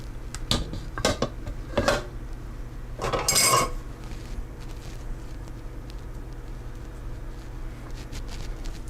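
Banana bread batter, left slightly lumpy, is scraped from a bowl into a baking dish with a utensil: a few sharp clinks and scrapes, then one longer louder scrape, followed by quiet room tone with no talking.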